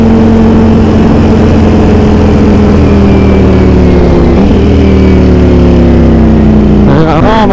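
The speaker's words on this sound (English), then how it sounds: "it's a symphony of sounds and flavors and everything a Ducati should be" A Ducati motorcycle engine roars loud and close while riding, its pitch sliding down steadily as the bike slows, then rising in a sharp burst of revs near the end, with heavy wind noise throughout.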